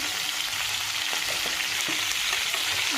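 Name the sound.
cauliflower frying with salt and turmeric, being stirred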